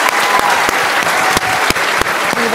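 An audience at an award ceremony applauds in a loud, sustained burst of clapping, with a few sharp louder claps standing out.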